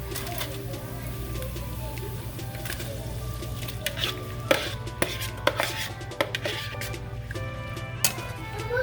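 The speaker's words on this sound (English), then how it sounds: "I'm gonna go ahead and add in my shrimp." Shrimp go into a pan with garlic, herbs, salt and seasonings, giving a soft sizzle under a low hum, broken by sharp clacks of a utensil stirring against the pan.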